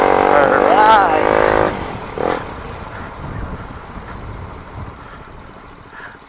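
A motorcycle fitted with a new replacement muffler gives a loud, lively engine sound, heard first under someone talking and then as a steady, rough rumble that continues on its own.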